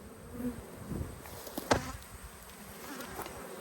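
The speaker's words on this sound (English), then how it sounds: "I'm going to shake the bees off" Bees buzz around an open Australian hive during an inspection, a soft continuous hum of many insects with a brief sharper knock near the middle.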